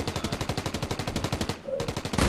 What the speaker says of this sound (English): Let me see how good this Tommy gun.